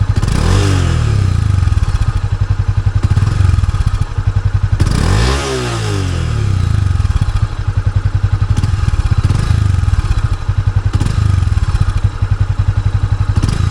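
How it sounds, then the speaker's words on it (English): A Honda CB300F motorcycle engine burbles loudly and steadily with a throaty, sporty exhaust note, revving up and down a few times, close and continuous. "that's the exhaust note of the bike. Pretty sporty sounding."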